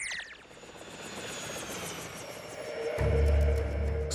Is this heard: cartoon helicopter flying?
yes